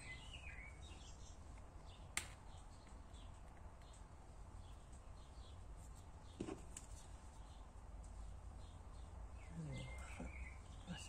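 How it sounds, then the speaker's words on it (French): Small birds chirp and sing faintly outside an open window, with thin high calls scattered over a steady indoor background hiss and a few soft knocks nearby. "je pense que vous devez entendre les petits oiseaux"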